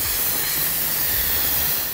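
Steady, loud broadband hiss of steam venting from an Instant Pot electric pressure cooker during a quick pressure release, continuous and unbroken throughout.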